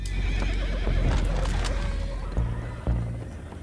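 Horses whinny loudly in the Red Dead Redemption 2 video game, with clip-clopping hooves and a rumbling background, a couple of sharper neighs standing out near the end.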